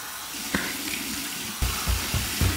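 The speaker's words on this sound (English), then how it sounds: "cold water rinse" Water runs from a sink tap for a cold rinse after a shave, a steady close splashing with a few sharper splatters as hands or face meet the stream.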